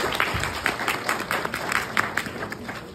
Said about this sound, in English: So, clap it up for y'all.